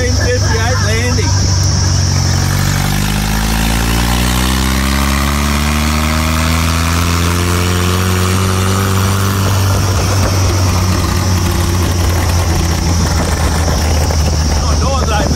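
A 1958 Land Rover 4x4 engine runs loud and close throughout, a steady low idle with the pitch rising and falling as it revs, while people talk over it.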